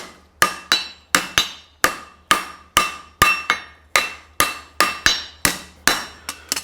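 A hammer strikes hot steel on an anvil while forging a horseshoe heel cork and bending over its trailer, about a dozen sharp ringing blows in a steady, close rhythm, some doubled with quick rebounds.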